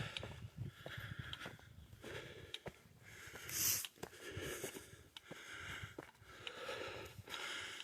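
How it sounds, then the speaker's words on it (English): A hiker climbing a mountain in very humid weather breathes heavily and close, with repeated sniffs, snorts and wheezy exhales in an uneven rhythm, along with faint footsteps. "So if you guys can hear me breathing"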